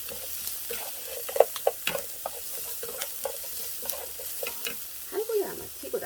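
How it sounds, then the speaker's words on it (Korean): Garlic stir-frying in a pan, a soft steady sizzle broken by scattered crackles, pops and the scrape of stirring, close up and fairly quiet with no talking. "그래서 마늘을 여기다 볶아주세요."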